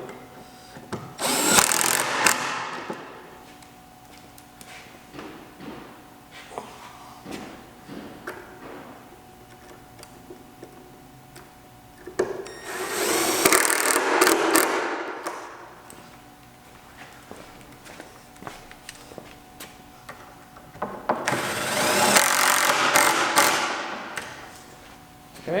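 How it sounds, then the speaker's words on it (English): A power drill drives screws into pre-drilled holes in a corner piece of a galley and storage unit: three loud, sustained bursts of whirring with quiet gaps between them, where faint handling knocks can be heard. "Now I'm just going to screw into the pre-drilled holes."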